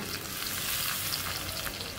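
Ground cumin paste added to browned onions in a pan while cooking beef liver bhuna, a loud continuous sizzling hiss with steady frying crackle close up.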